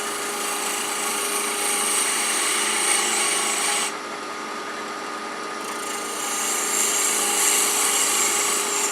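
Wood lathe spinning steadily as a spindle gouge makes very light cuts on a woodturned ring holder, a continuous close scraping whir that dips briefly in the middle, with no talking.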